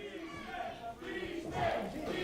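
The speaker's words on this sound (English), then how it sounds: "And the crowd, all for Justin Decent right now." An independent wrestling show crowd roars and cheers for a wrestler after a clothesline into the corner, a sustained swelling wall of voices rising toward the end, with a commentator talking over it.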